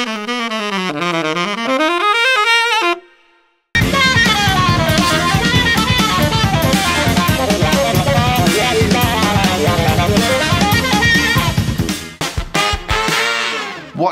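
A saxophone plays a full lick as one long run, then a brief gap, then a dense, loud ensemble passage with sax and band before the line thins out near the end.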